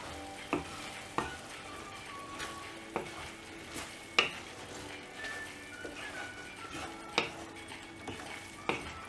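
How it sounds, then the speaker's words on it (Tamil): A spatula stirs ground coconut into a frying eggplant, drumstick and cowpea stir-fry, giving repeated close scrapes and clacks against the pan over a steady soft sizzle. "இப்போ வந்து தேங்காய் அரைச்சி வச்சுருக்கிறத ஆட் பண்ணிவிட்டு இதனால் மிக்ஸ் பண்ணி விட்டுடலாம்."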